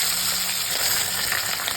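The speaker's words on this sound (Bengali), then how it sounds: "গরম হয়ে গেছে, এবার মাথাগুলো ভেজে নেবো।" Fish heads rubbed with turmeric and salt fry in hot oil, giving a dense, continuous sizzle heard up close and alone for a couple of seconds.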